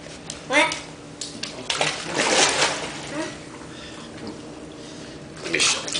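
A child splashing water in a filled bathtub, a few bursts of splashing and sloshing at close range, with a voice and an adult talking between the splashes.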